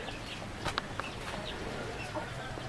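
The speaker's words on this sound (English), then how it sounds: "Inside is another hen sitting on eggs." A hen clucking softly while sitting on eggs inside a chicken coop, a few short, faint clucks over steady low background noise.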